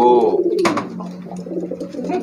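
Pigeons in a nest, racing birds, give a close, loud, throaty coo that drops in pitch, followed by softer cooing and a brief rustle.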